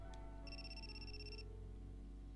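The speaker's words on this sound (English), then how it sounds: "And then his phone rings." A phone rings in the Super Robot Wars Z3 video game, a single electronic ringtone burst of about one second, faint over a low background hum.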